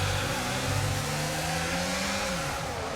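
A Formula 1 race car engine in the F1 22 game revs hard and loud after a spin under too much throttle, a dense, steady high-pitched roar with a slowly shifting tone, running alone throughout.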